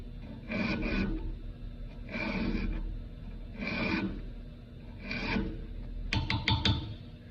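A hand file sharpens chainsaw teeth with four evenly spaced rasping strokes, then a quicker cluster of short scrapes at the end, close and clear with no talking.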